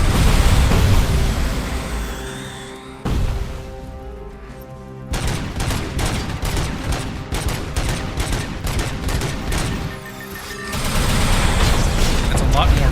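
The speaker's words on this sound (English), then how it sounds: "That's a lot more missiles." Missile launcher fire in Robocop: Rogue City, loud repeated blasts and explosive booms in dense bursts, with a brief lull midway before another heavy barrage of rapid impacts.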